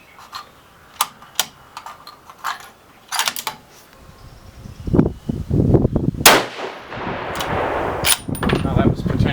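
A 7mm Remington SAUM rifle loaded with 180 grain hybrid bullets fires outdoors. Sharp, loud reports and clicks are scattered through the first few seconds, followed by rougher, busier noise that may include voices.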